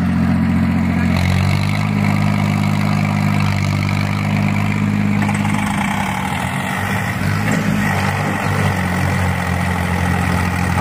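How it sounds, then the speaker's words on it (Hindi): Farmtrac 35 HP and Eicher 485 tractors straining against each other in a tug of war, heavy diesel engines chugging loud and close with a steady low rumble that shifts pitch as the load changes, faint crowd noise behind. "अड़ गया मात्र 35 HP का ट्रैक्टर है और 485 के साथ अड़ गया अड़।"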